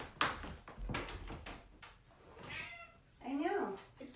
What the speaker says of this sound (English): I'm gonna let the cat